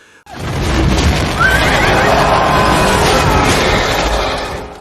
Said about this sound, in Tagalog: Pagkakuha ng kabayo, kinuha ni Maximus ang pamumuno, sumugod pasulong at pinaslang ang lahat ng kalaban